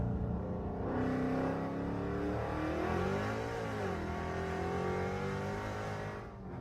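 A modified Dodge Charger engine roars loudly and steadily, its revs rising and falling in a single sustained burst at close range, with no one speaking over it.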